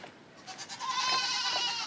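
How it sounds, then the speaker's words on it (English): Goats on a small backyard homestead bleat in a short, wavering cry that rises and holds, fairly close and clear with no talking over it. "as you can hear, we have our goats"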